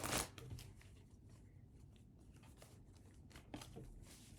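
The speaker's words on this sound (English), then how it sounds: "And let's get one more shuffle" Tarot cards are shuffled by hand, a soft, close riffling and rustling with a few sharper snaps, fairly quiet throughout.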